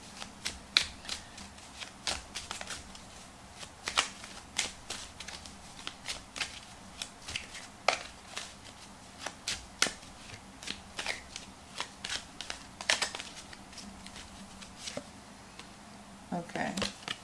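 Tarot cards shuffled by hand in repeated quick riffling bursts and soft snaps, close and fairly quiet, with a low steady hum beneath and no talking.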